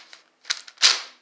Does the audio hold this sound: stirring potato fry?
no